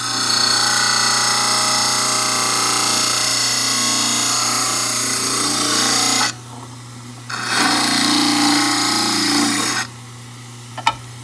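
A dental model trimmer grinding the edges of a plaster study model base, a loud continuous abrasive whir that drops out briefly twice as the model is lifted away from the wheel.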